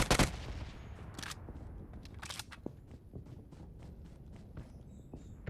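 Gunfire in a PUBG game match in Rozhok: a few quick bursts of shots near the start, followed by scattered sharp reports and soft footstep-like taps over a low background.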